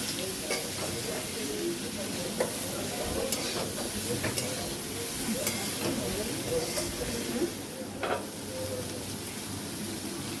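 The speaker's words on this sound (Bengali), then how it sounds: "এবার আমি এর মধ্যে অল্প পরিমাণে হলুদ দিয়ে ভালোভাবে নাড়িয়ে চাড়িয়ে নেব।" Bitter gourd and shrimp fry in a pan with turmeric while being stirred, giving a continuous loud sizzle and hiss broken by repeated scraping and clattering strokes of the spatula.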